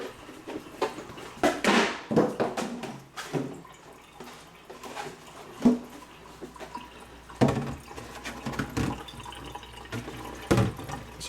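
Water from a BRS 5-stage chloramines-plus RO/DI filter system running into a gallon container, with an irregular splashing, trickling flow and occasional louder gushes close by.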